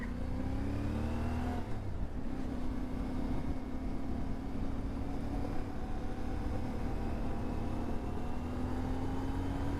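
A 2025 CF Moto 450 MT motorcycle engine pulls hard in second gear, its steady drone rising in pitch after a brief dip around a shift, loud and close with wind noise and no talking.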